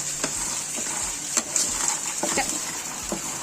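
Quiet sizzling of chickpeas dry-roasting in a pan over low heat, with scattered light scraping and stirring clicks, steady and close.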